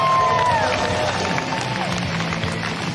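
A crowd cheers for an athlete at a STIHL Timbersports North American Trophy competition, a steady wash of distant cheering and hubbub running under an announcer's voice.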